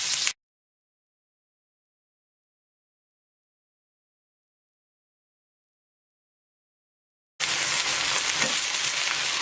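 Beef steak sizzles in hot oil in a pan, a loud bright frying hiss heard briefly at the start, then a long gap of silence before the sizzling returns strongly.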